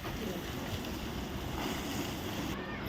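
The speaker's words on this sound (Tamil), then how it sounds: "ஸோ ஃபுல்லாகவே தண்ணி பிடிச்சி ஊற்றுறோம் அது ஃபுல்லாக" Water poured steadily over an old building wall being prepared for a primer coat, a close, continuous rushing splash that holds at an even level throughout.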